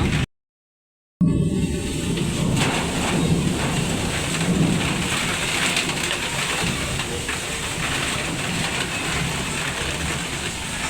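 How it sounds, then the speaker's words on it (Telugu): Heavy rain pours in a dense, constant roar after a brief cut of silence near the start, with a low rumble underneath and no talking. "ఫుల్గా పడుతుంది వాన"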